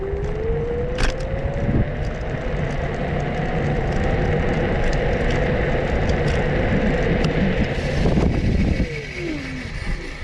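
An NIU KQi Air lightweight electric scooter with a front disc brake, ridden outdoors, hums with a rising motor whine as it accelerates, steady road and wind noise, then the tone drops sharply as it brakes near the end.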